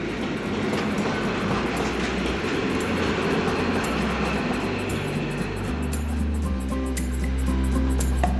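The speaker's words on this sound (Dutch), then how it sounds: "De vertrekkende trein probeert nu zoveel mogelijk vaart te maken." A departing train picking up speed near Leiden station in the Netherlands, a steady loud rumble with rhythmic wheel clatter over the rails that grows slightly heavier toward the end.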